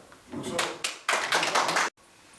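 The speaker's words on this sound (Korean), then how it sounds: "그래, 박수 칩니다." An audience applauds at a political campaign launch ceremony in Busan, a dense burst of clapping that builds quickly, stays loud for under a second, then cuts off sharply.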